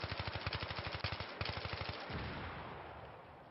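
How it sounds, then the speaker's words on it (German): Rapid machine-gun bursts in the Battlefield 3 campaign, close and rhythmic, broken by a short pause, then fading into a rumbling wash of impacts and distant battle noise. "die Waffen klingen in Anführungszeichen realistisch, ne?"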